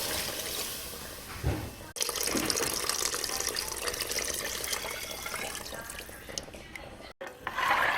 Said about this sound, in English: 6 cups of water going in.